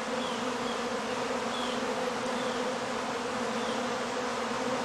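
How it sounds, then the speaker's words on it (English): Honey bees fly in and out of a backyard beehive on a sunny day, making a steady, dense, close buzzing drone that holds evenly throughout with no talking. "So you can see many bees flying in and out of the hive."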